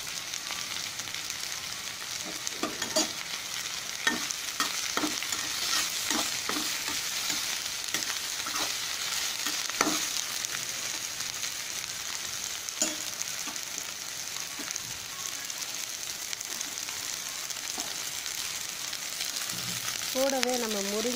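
Onions, curry leaves and peppercorns frying in a pan for ragi adai, a continuous close sizzle with scattered spatula scrapes and stirring clinks throughout.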